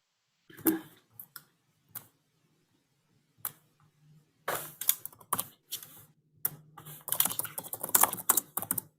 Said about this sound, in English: I hear that you are typing.